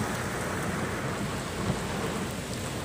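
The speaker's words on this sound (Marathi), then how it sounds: "पावसाचा आवाज आणि पाऊस आपल्याला या ठिकाणी पाहायला मिळतोय विजा आपण पाहताय प्रचंड विजा आवाज होतोय कडाडतायत चमकतायत" Heavy unseasonal rain pours down in a thunderstorm with strong winds in Beed district, a dense, steady roar of rain with low rolling thunder rumbling beneath it throughout, no voices.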